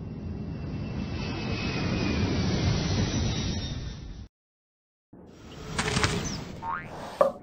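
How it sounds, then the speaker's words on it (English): Cartoon sound effect of a jet aircraft flying: a steady loud whooshing roar for about four seconds, then a cut to silence and a brief return of sound with a sharp final accent. "You'll fly real high and fast, I bet, up in the sky inside a jet."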